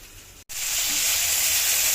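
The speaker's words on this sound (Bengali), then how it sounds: "এই আলুটা ভাজি ভাজা নিতেছি" Potatoes frying in a pan, a loud continuous hiss and sizzle that begins abruptly after a brief silence and holds steady, close up with no talk.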